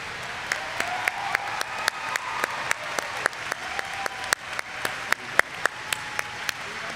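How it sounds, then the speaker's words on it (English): Audience applause at a graduate student commencement ceremony, steady dense clapping that fills the hall throughout, with sharp louder individual claps standing out at an irregular rhythm. "Let's give them a round of applause."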